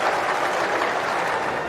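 At an England versus Bangladesh Test cricket match in 2005, crowd applause greets Andrew Strauss reaching fifty: a steady wash of clapping from the ground that holds evenly throughout, with no commentary over it.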